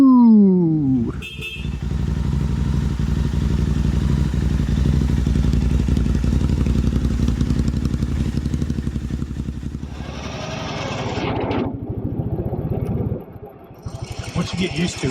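A Royal Enfield Bear 650 motorcycle on the move gives a steady, close engine drone under wind, with a brief rev change near the end as gears shift.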